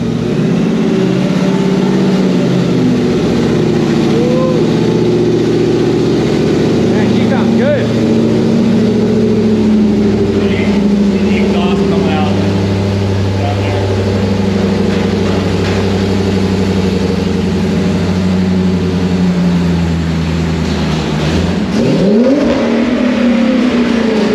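A Whipple-supercharged Coyote V8 in a 1973 truck runs loud and steady in a shop, with a constant low rumble throughout and a brief rev and drop near the end.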